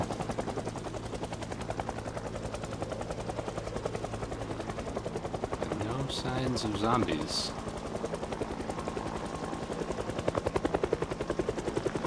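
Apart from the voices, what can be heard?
helicopter running, from a video game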